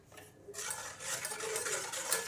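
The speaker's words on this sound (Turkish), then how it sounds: "Şöyle karıştırdık." A spoon stirs a tiramisu mixture with savoiardi biscuits in a pot, a brief close wet scraping and swishing that starts after a short pause and continues steadily.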